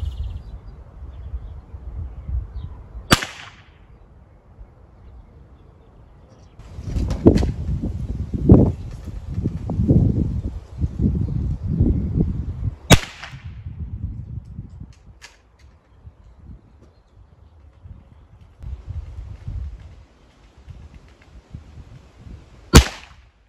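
Three sharp .22 LR rifle shots fired into ballistic gel — subsonic, Winchester and Stinger rounds — crack out loud and isolated, spaced several seconds apart, with low rumbling handling noise and thumps between them.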